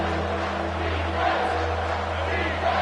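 A crowd roars at a college football game between Colorado and Alabama, a sustained loud stadium din with a low drone underneath and a commentator talking over it.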